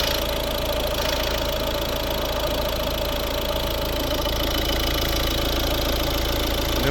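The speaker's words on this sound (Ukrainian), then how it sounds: "Ось робота двигуна." A steady, continuous idle of a 2011 Volvo V50 1.6 D2 diesel engine with a low rumbling drone and a faint mechanical ticking, close and unchanging throughout, no voices.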